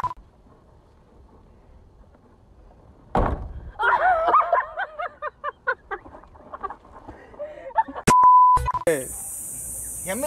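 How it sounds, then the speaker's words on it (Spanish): Harsh electronic buzzer beeps in a short burst near the end of a noisy comedy meme compilation, following clucking, chicken-like calls and other scattered sounds. "Ya me tiene hasta la madre la chicharra esa"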